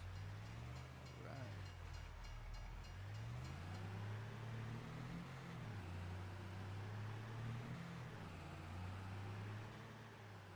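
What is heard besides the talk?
train crossing in video game Farming Simulator 25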